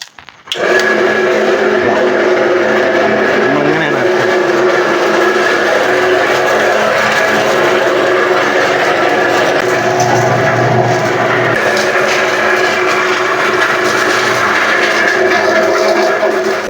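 A machine grinding clay for making clay cooking pots starts up abruptly and then runs as a loud, steady mechanical whir and rumble, continuous and close, with no speech.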